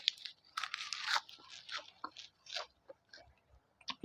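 Crisp, repeated crunching of fresh homegrown vegetables eaten raw with a spicy dipping sauce, a close series of bites and chews in irregular bursts with no talk.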